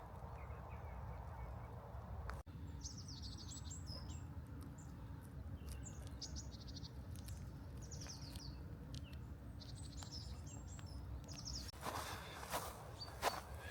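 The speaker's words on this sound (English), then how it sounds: "Hear the birds singing here." Birds, likely ducks or geese, honk and call faintly and at a distance in winter woods near a frozen pond, with short scattered bursts over a low, constant outdoor rumble.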